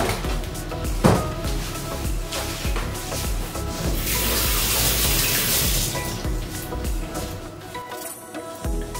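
Tap water runs steadily and splashes as salted cabbage is rinsed in a sink for kimchi, a continuous close hiss and gurgle with no talking.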